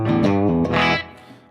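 Clean electric guitar tone with all effects switched off, played through an amp and cabinet modeler: a few sustained chords ringing out clearly, then decaying toward quiet.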